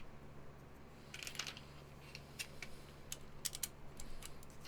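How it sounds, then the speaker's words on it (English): Quiet, irregular clacks from a mechanical computer keyboard come in small bursts of keystrokes with short pauses between them, heard close but soft against a faint steady hum. "I'm almost done for typing sounds"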